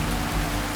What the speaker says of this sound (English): drops pound my head, run down my back in this solid, monotonous rain.